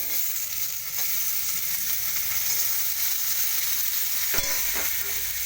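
Chopped onion, chilli and tomato frying in a pan, a steady close sizzle throughout with a couple of brief stirring scrapes near the end.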